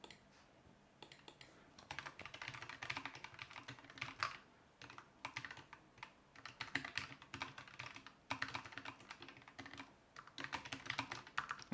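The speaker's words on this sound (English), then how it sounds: "I'm sorry if my keyboard's loud." Close, rapid typing on a computer keyboard, with clattering bursts of keystrokes broken by short pauses and no voices.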